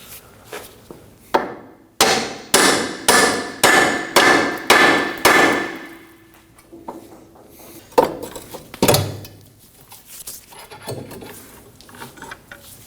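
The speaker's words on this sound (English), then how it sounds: "I'm going to pry down on this with a pry bar and tap gently on the end with a hammer" A hammer tapping the end of a ball joint stud on the front control arm of a 2003–2006 Subaru Baja while a pry bar presses down: a run of sharp metallic strikes in steady rhythm, then a few scattered taps, close and fairly loud.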